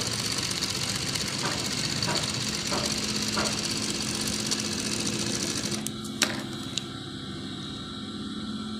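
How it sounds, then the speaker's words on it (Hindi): Sewing machine stitching a kurta, running steadily at a constant whir for most of the stretch before easing off near the end, with a couple of faint clicks as it stops. "ये 3-4 सिलाइयाँ हमने लगा लेनी है।"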